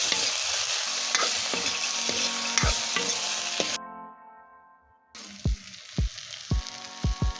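Tomatoes fry and get stirred in a pan for a potato and egg curry, a loud sizzle with spoon scrapes that drops out briefly, then returns with several sharp knocks of the utensil against the pan.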